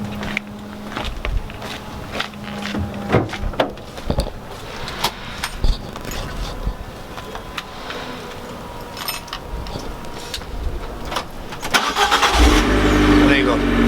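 Abarth 595 engine cranking and catching on the first try near the end, rising into a loud steady idle after a stretch of quieter clicks and background noise.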